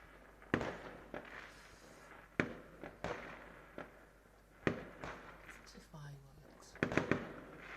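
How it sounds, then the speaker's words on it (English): Fireworks going off at a New Year's celebration, several sharp bangs scattered across the clip with crackling between them, moderately loud against a noisy outdoor background with people talking. "Fireworks."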